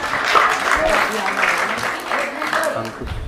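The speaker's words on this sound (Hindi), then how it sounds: "जोरदार तालियां" An audience at an award ceremony claps warmly in a brief, steady burst of applause while a host keeps speaking over it.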